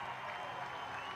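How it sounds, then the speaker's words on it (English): Outdoor crowd applauding at an air force aerobatic display in Chennai, a brief, distant-sounding wash of clapping with a faint murmur of crowd noise. "a big round of applause"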